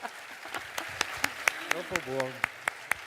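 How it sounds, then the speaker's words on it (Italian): Applause at the award ceremony for the Premio Mestre di Pittura 2023 painting prize: a small group claps in a steady, even rhythm, with crisp distinct claps, and a voice speaks briefly partway through. "E con un applauso."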